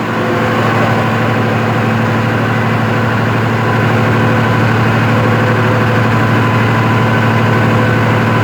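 A Yong Dong 100 kVA diesel generator engine runs loud and close, a steady heavy droning hum with constant vibration and no break throughout.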